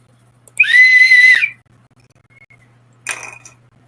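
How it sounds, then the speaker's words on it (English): A whistle is blown in two shrill bursts, a long steady blast followed after a pause by a shorter one, loud and close in an otherwise quiet room. "this is a whistle, by the way"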